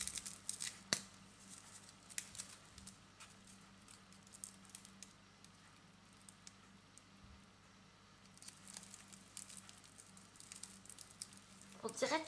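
Craft box packaging is handled and unwrapped up close, with faint crinkling, tapping and snipping sounds that are soft and intermittent and grow busier near the end.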